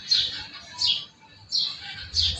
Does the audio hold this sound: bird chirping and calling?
yes